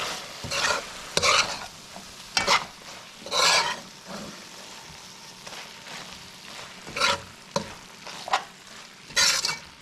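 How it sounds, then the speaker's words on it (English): Shrimp curry with potatoes being stirred in a pan, a string of scraping, swishing strokes arriving in uneven bursts over a low simmering hiss, close and fairly loud with no voices. "we're gonna add some salt to taste. And give it a stir"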